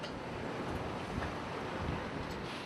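Strong wind blows continuously across an outdoor site where workers are installing a large tent canopy, a broad, steady rushing roar with buffeting on the microphone and no voices.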